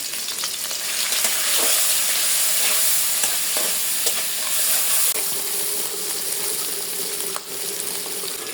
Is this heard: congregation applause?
no